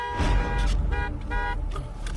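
A car horn honks at a closed gate, loud and close in short repeated blasts over a low idling engine rumble.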